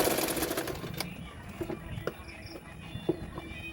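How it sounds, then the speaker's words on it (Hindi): A sewing machine stitching a blouse, its steady rapid mechanical whir running throughout at moderate loudness, with faint clicks scattered over it. "उसके बाद मैंने और एक सिलाई डाल दूंगी।"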